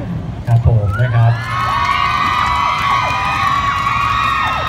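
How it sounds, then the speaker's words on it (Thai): Crowd screaming and cheering at a Thai television drama character launch event, loud high-pitched shrieks and whoops rising after a brief voice and then holding steady for several seconds. "ขอบคุณสำหรับเสียงกรี๊ดนะครับ"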